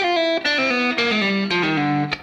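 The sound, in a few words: atonal guitar lick with pull-offs across strings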